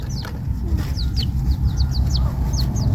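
Small chickens on a farm, clucking and calling in short repeated bursts over a steady low background rumble, with higher chirps scattered throughout.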